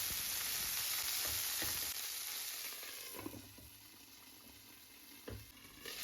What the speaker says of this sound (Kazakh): сары майда тағы да 5 минут қуырамыз